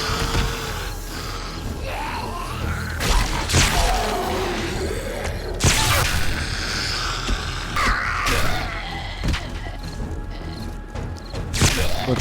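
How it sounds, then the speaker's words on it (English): Sledgehammer trap in a zombie survival game smashing attacking zombie birds during a blood moon horde, with repeated loud crashing whacks and thuds at irregular intervals, crow-like caws and swooping cries between them. "Looks like the sledgehammer took care of the first bird."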